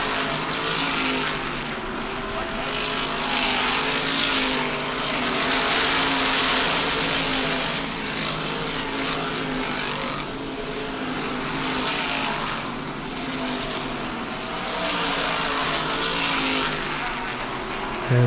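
Star Modified race cars roar past on an oval track, a dense, continuous engine drone that swells and fades as the pack circles, loud and unbroken with no talk over it.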